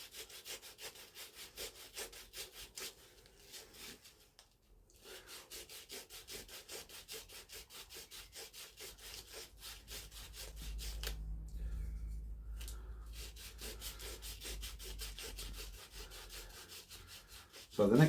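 Sanding the inside of a wooden candle holder with 120-grit sandpaper gives a steady, quiet rhythmic rubbing scratch, repeated close strokes continuing through with a short pause and no talking.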